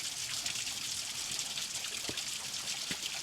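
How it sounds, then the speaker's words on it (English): A man-made waterfall at Zion National Park gives a continuous broad rush of falling and splashing water, steady and fairly close, with a few faint thuds and no talking. "here's a man-made waterfall"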